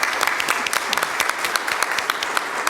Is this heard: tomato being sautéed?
no